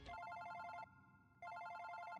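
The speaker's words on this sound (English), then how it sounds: "Oh wait, this is my phone." A telephone rings in two electronic bursts separated by a brief gap. The ringing is faint and heard alone, with no talking over it.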